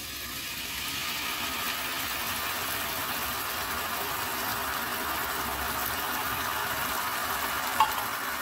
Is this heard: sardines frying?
yes